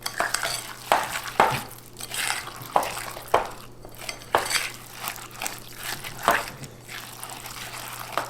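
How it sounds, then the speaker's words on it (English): Thick dough being stirred with chopped pecans in a bowl for keto pecan bars, giving repeated scraping, thudding strokes against the bowl at a steady, moderately loud pace, close by with no talking. "We're going to mix this all up, right?"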